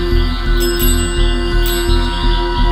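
Bell ringing out in a forest at night on Mt. Makiling, a bright steady metallic tone repeating over a low rhythmic pulsing background, fairly loud with no talk.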